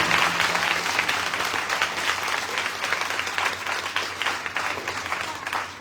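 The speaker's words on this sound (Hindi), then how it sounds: "जोरदार ताली।" A church congregation at a Palm Sunday service breaks into loud, sustained applause, dense clapping from a large crowd filling the hall steadily, with faint voices mixed in.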